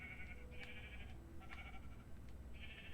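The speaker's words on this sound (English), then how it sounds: "Now we'll have the sheep in this one." Sheep bleat several times in a barn-building video game, the short wavering cries spaced out over a steady low background hum.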